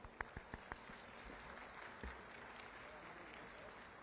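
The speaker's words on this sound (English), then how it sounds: "Let us all give a final round of applause to all our successful graduates." Applause for graduates at a university convocation in Delhi, faint and scattered, a few distinct claps early on, then a thin patter fading under room noise.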